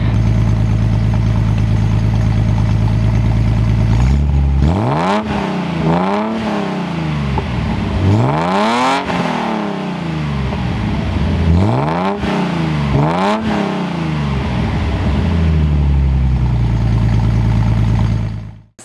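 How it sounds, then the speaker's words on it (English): A 1978 Datsun 280Z engine idles, then revs up repeatedly in several rising and falling bursts, loud and close, before cutting off. "we'll give you guys a few revs right quick."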